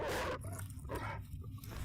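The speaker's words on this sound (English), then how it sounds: "that dog sound is crazy" A dog in the dark horror game Fear and Hunger makes loud, harsh barking bursts, several rough cries in quick succession, close and alone.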